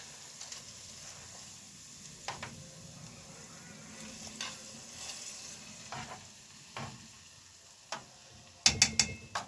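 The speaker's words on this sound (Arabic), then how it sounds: "شايفه ادي اهي الطشه اهي" Garlic tasha frying in hot ghee for an Egyptian home meal, a steady soft sizzle with scattered clinks and scrapes of stirring, then a short burst of sharper crackles near the end.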